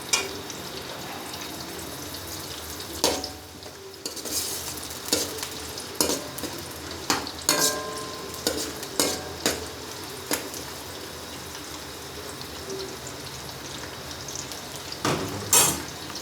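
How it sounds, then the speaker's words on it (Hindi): Onions fry gently in a pan for masoor dal, a soft continuous sizzle broken by repeated sharp scrapes and clinks of a spoon stirring against the pan, with no voices. "प्याज हमारे हल्के फ्राई हो जाएंगे तब इसमें लहसुन अदरक का पेस्ट ऐड करेंगे।"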